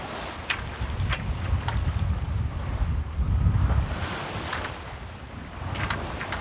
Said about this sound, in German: Ganz schön Welle, ne?